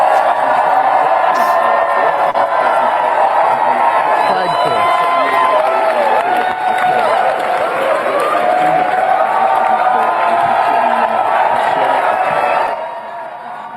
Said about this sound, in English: That was the cheer of the public